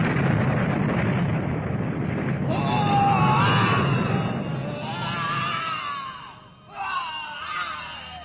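A giant supernatural creature lets out a thunderous, echoing roar-scream as it vanishes, loud and sustained with rising and falling wails, in a dramatized fantasy scene.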